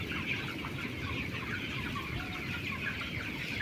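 Many 18-day-old chickens cluck and murmur continuously in an enclosed poultry farm shed, a dense steady chorus of fowl with no voices.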